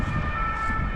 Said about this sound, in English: I think it's an ambulance passing by or something